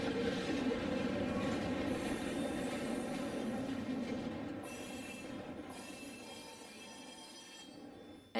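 HO scale model Western Pacific train on the Feather River Route running past, a steady rumbling roll of wheels on track that gradually fades, fairly faint with no talk.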